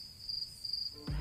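Steady crickets chirping as a comic sound effect, a thin continuous trill that runs quietly and alone before being cut off by a sudden low, loud burst at the very end.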